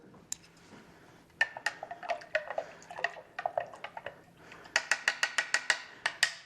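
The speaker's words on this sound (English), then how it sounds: "We'll just put a whole bunch of them in there. And we'll give this a nice stir." A spoon stirring test drops into a half-full water pitcher, quick bright clinks against the sides coming in irregular bursts, then a faster run of evenly spaced taps near the end.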